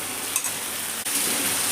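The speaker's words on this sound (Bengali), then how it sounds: "মশলাটাকে খুব ভালো করে কষিয়ে নেব।" Spice paste cooks in a pan with tomato paste over a high-to-medium gas flame for a fish curry, giving a steady close sizzle with brief stirring scrapes.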